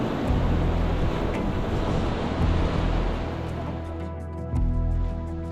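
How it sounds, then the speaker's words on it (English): Ocean surf rolls onto a sand beach at Jervis Bay, Australia, a steady broad wash of waves and wind heard continuously at moderate loudness with no voices. "You can hear the waves rolling softly in the distance."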